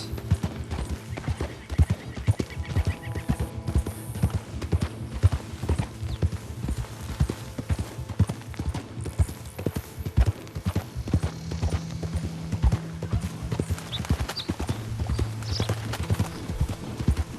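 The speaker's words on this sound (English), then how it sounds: "Long rides like this always help with the bonding experience with your horse." A horse gallops in the Red Dead Redemption 2 video game, its hooves beating a fast, steady clip-clop throughout a long ride, with occasional neighs and whinnies breaking through near the microphone.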